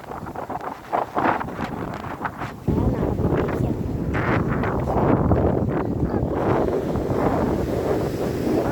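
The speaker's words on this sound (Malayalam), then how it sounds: "നല്ല കാറ്റുണ്ട് കേട്ടോ." Strong wind buffets the microphone at a beach in winter season, a loud continuous roar of gusts with surf churning underneath, growing heavier after the first few seconds and staying steady.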